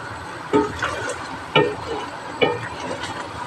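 Sweet and sour chicken sauce bubbling in a pan on the stove, with soft steady simmering texture broken by a few louder pops and clinks at irregular intervals, close by and without talk.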